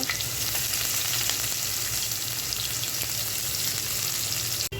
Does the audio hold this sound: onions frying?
yes